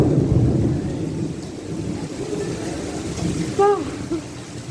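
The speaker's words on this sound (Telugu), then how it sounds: "అబ్బబ్బబ్బబ్బా, జడి వాన." Heavy rain pours steadily, a dense close wash of noise with low thunder rumbling beneath, and a person's voice exclaiming briefly near the end.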